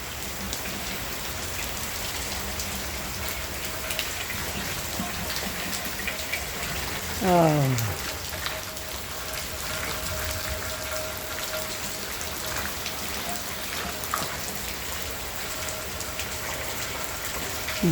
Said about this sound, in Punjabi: ਨਿੱਕੀ ਨਿੱਕੀ ਕਣੀ ਦਾ ਮੀਂਹ ਬਰਸ ਰਿਹਾ